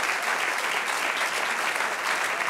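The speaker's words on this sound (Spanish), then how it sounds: "Denle un aplauso al Señor." A church congregation claps at a worship service, a steady, dense wash of applause that holds at even loudness throughout, with no talking.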